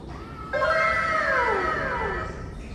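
A custom Tesla lock sound plays once from USB: a clear, meow-like tone with gliding, falling pitch, about two seconds long over quiet background noise.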